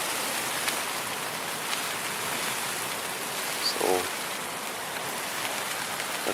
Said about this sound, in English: today's going to be a laying low day, I think, until this rain lets up